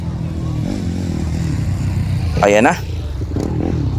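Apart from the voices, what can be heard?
motorcycle racing engine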